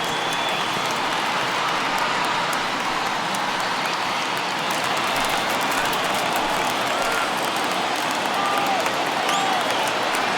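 A stadium crowd of over 39,000 cheers and applauds in the baseball video game MLB The Show 21, a dense, steady roar of clapping and voices that stays loud throughout.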